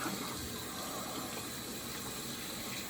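Tap water runs steadily into a sink while a face is rinsed after a shave, a faint continuous gush with no talking.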